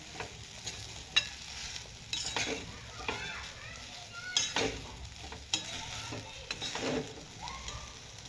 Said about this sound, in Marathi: आपली खिचडी अशी परतत आली